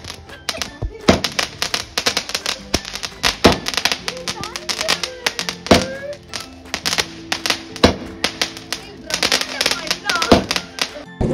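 Firecrackers set off during a birthday celebration: rapid, irregular sharp bangs and cracks burst throughout, mixed with music and voices in the background.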